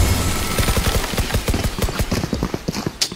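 A rapid burst of gunfire rattles out in quick, evenly spaced shots, followed by a few scattered pops, from the video game Valorant.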